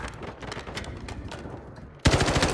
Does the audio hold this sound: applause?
no